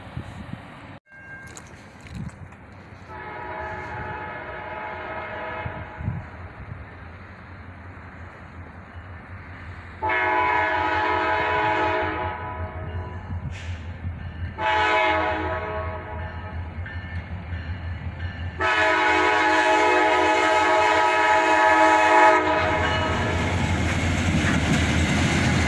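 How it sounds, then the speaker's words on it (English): A CSX freight train led by an EMD SD40-3 locomotive arrives, sounding its horn in several long blasts with gaps between them, over a steady rumble of engines and rolling wheels that grows louder as it nears. "we didn't wait long for this first train to arrive."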